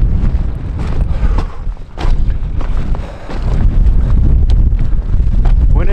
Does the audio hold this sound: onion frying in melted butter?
no